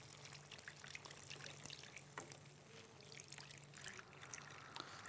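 Water poured into a pot while chicken meatballs seasoned with salt and black pepper cook, a steady soft trickle and splash running throughout at moderate, close level.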